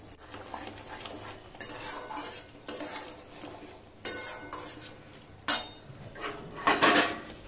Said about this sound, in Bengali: সিদ্ধ করে রাখা ব্রোকলিগুলো দিয়ে দিলাম।